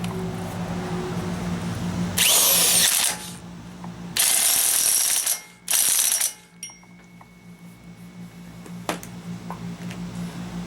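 An impact wrench drives a nut down on a Kawasaki FH500V 17 HP engine during a cooling fan replacement, firing three loud hammering bursts of a second or two each, separated by pauses with faint clicks and handling noise, and no talking.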